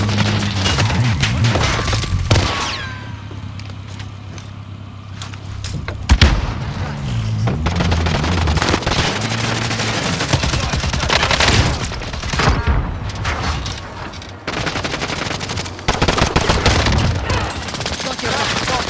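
Akimbo Renetti pistols firing in Call of Duty Warzone, dense loud bursts of rapid gunshots that keep going throughout, mixed with game effects and some talk.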